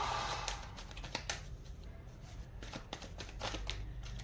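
Tarot cards are shuffled in soft, quick riffles and taps, a series of faint papery bursts close to the microphone, with no speech.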